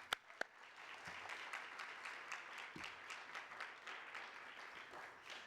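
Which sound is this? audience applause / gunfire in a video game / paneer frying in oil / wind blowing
audience applause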